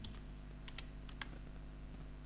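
Keys on a computer keyboard clack in a few quiet, sparse taps over a steady electrical hum, with no voices.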